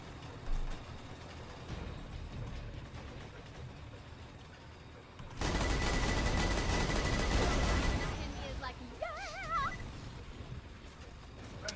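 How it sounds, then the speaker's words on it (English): Rapid plasma cannon fire in the Borderlands 2 video game, a dense loud burst of sustained shots lasting a few seconds amid quieter game noise, followed by a brief warbling electronic tone. "Plasma cannon's apparently not powerful enough."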